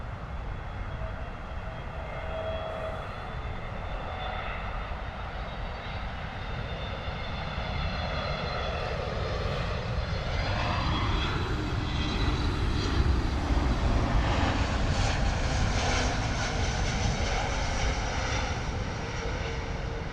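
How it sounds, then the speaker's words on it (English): A British Airways Airbus A320neo landing at London Heathrow, its jet engine roar loud and sustained, building to a peak and shifting in pitch as it touches down and rolls out. "Lovely landing there from the British Airways A320neo."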